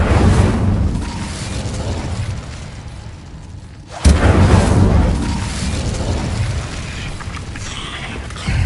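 Incendio fire spell cast in a cave in Hogwarts Legacy, a sudden loud booming burst with a whooshing roar of flame that rumbles on for several seconds before another blast begins.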